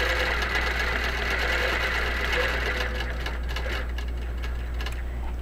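A QBOT quilting robot drives a sewing machine through a stippling design, giving a steady, close mechanical hum with a fast, even stitching rhythm that continues unbroken throughout.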